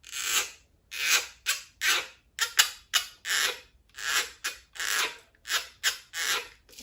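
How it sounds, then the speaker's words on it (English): Popsicle stick scraped across the ridges of a homemade instrument, giving close, raspy strokes in quick uneven bursts, like a small guiro being played. "I wonder what happens if I take a popsicle stick and see if I can play that."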